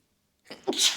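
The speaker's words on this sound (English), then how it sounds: "Excuse me, while I sneeze" A single sneeze during a quiet morning yin yoga session, brief and fairly soft, rising suddenly out of near silence with a breathy intake before the burst.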